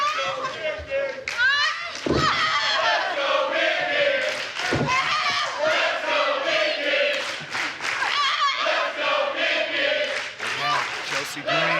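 A wrestling arena crowd in Atlanta at a TNA event shouts and cheers in a loud, continuous roar of many voices, with thuds from the ring and a commentator talking over it.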